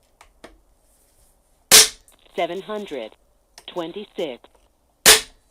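A Daystate Air Wolf .177 air rifle fires JSB Hades pellets, two sharp loud cracks a few seconds apart, with someone speaking briefly in between.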